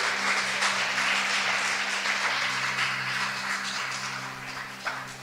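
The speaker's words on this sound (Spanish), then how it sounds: "Dale un aplauso al Rey de Reyes" Congregation applauding at a church service, a dense sustained clapping over a low steady hum, gradually easing in level toward the close.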